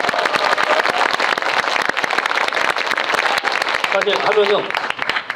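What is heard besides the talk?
audience applause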